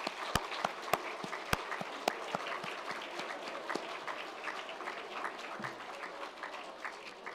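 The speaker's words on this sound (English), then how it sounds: "just give them a round of applause" Scattered applause at a virtual graduation celebration, with a few loud, close individual claps standing out at the start over a thinner, uneven patter of hands that continues to the end.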